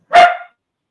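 A rowdy pet dog named Lilith lets out one loud, close bark, sharp and brief, followed by silence.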